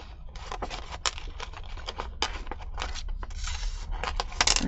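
Scissors snip through paper in a quick, irregular series of crisp cuts and rustles, close by, with no talking.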